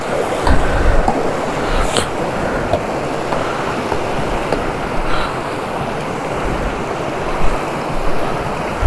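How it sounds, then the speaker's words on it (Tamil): Water rushes continuously at a hidden waterfall in the Kollimalai hills, a steady broadband roar with light wind buffeting on the microphone and no talk. "ஸோ இதான் அந்த ஃபஸ்ட்டு வாட்டர் ஃபால்ஸ்."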